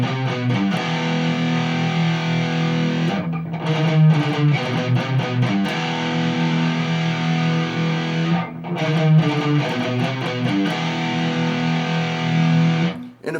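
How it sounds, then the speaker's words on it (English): Heavily distorted electric guitar chugs through a fast galloping metal riff on a few low notes, punctuated by ringing power chords, loud and continuous with short gaps, no voices. "now we're just straight up galloping on these few notes here"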